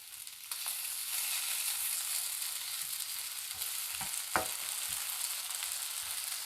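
Thin slices of egg fry in a hot pan with a steady, close sizzle throughout, broken by a few brief clinks and scrapes near the middle and end; no one talks.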